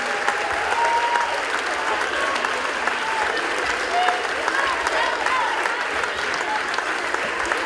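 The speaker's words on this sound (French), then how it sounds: "Je crois qu'on peut les applaudir de retour. Très très fort, bravo à vous." An audience at a TARO show at La Sablière applauds in a steady, dense clap that holds at an even level for several seconds, with faint voices mixed in.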